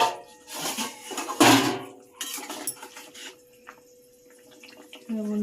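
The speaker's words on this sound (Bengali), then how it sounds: "যে এবার আমি একটু ঢাকনাটা খুলে দেখবো সিদ্ধ হয়েছে কি।" A metal pot lid lifted off potatoes boiling in a home kitchen, with sharp clattering clanks of cookware, a bright metallic ring and a few smaller knocks.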